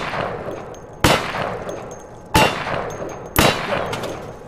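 Three loud, sharp gunshots from the video game Insurgency ring out alone at roughly one-second intervals, each with a ringing echo that trails off.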